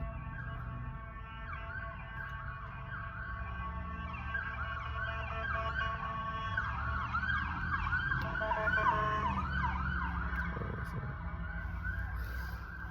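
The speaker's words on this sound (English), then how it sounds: "Ambulance." A wailing ambulance siren sweeps up and down continuously, growing louder as it nears, over low traffic rumble with no speech.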